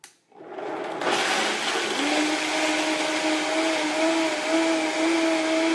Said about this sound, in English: So then I blend it up. So it's going to get kind of noisy.